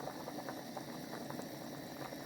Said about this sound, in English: So it started boiling.